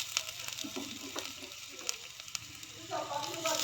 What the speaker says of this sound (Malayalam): വെളിച്ചെണ്ണ ചൂടാകുന്ന സമയത്ത് നമുക്ക് ഇഞ്ചി വെളുത്തുള്ളി പേസ്റ്റ് ഇട്ട് കൊടുക്കാം.